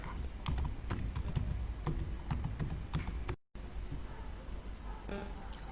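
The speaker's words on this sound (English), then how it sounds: "So I'm going to type" Rapid, uneven clicking of keys on a computer keyboard, close and fairly steady, broken by a brief moment of silence partway through before the typing resumes.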